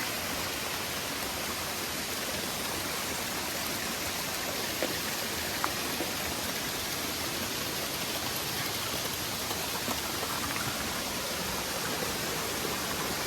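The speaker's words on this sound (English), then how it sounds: "Surrounded by beautiful waterfalls everywhere." Waterfalls along a mountain hiking trail on Mount Mansfield, Vermont, make a dense, unbroken roar of rushing water that stays loud and constant throughout.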